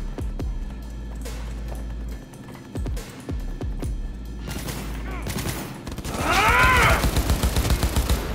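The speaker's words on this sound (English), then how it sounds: "Judy, we're literally shooting people." Cyberpunk 2077 firefight, a rapid series of loud, close gunshots in irregular bursts, followed by thicker overlapping shooting and a swelling rumble, with talking mixed in.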